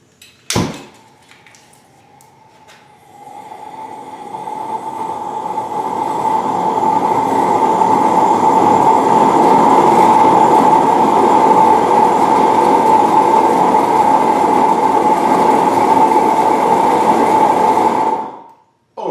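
A propane weed burner fitted with a muffler reducer lights with a sharp pop, then builds into a loud, steady roar with a humming tone. It holds for about fifteen seconds before cutting off abruptly.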